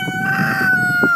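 Rooster crowing in one loud, close, drawn-out call at a farm beside an antique store, where goats, hens and turkeys are kept, with a brief cluck near the end.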